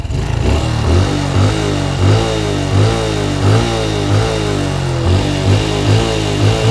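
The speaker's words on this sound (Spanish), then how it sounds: "así estaría sonando la Honda Way 110S" Honda Wave 110 S motorcycle engine ticking over and revving in a steady pulsing pattern of repeated throttle blips, a close, throaty small-engine drone with regular swells for several seconds.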